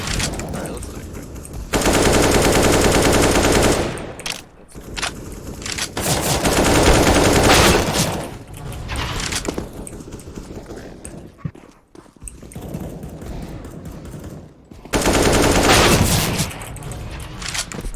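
Gunfire in a fast-paced shooter video game: loud, sustained automatic bursts fill long stretches, broken by short gaps and quieter action sounds.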